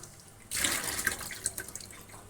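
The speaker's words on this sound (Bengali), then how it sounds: "পরিষ্কার করে ধুয়ে নিতে হবে।" Tap water gushes into a sink as a fish is rinsed clean, a steady splashing flow starting suddenly after a brief quiet moment and continuing with small bursts and drips, close and moderately loud.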